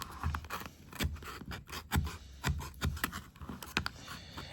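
Scissors snip along the edge of a sheet of paper during box-making craft work, with about nine quiet, rhythmic cuts, each a short crisp slice close by.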